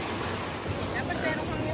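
Close, steady rush of sea waves washing in at high tide, a dense surf roar filling the short moment with no clear talk.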